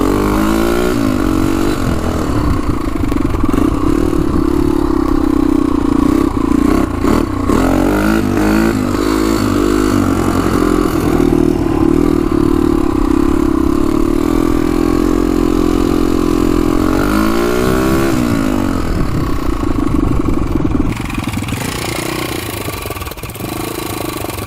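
A 1988 Honda 250X quad's engine runs loud and close for the whole stretch, with steady mid-pitched drone, brief throttle blips and revving swells, easing off near the end.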